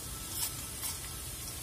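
Whole spices (cinnamon, cardamom, cloves and cumin seeds) sizzle in hot oil for an egg curry masala, a steady close crackling hiss with a couple of faint stirring scrapes and no voices.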